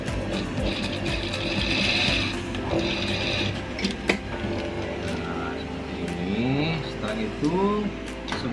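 A sewing machine stitches the hem of a women's blouse with a whirring mechanical run and intermittent rubbing of fabric. A person talks over it toward the end.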